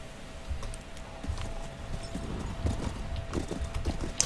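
Horse hooves clop in a quick, uneven rhythm in the game Call of Juarez: Bound in Blood, several animals moving at once, fairly close, with a faint steady tone in the background.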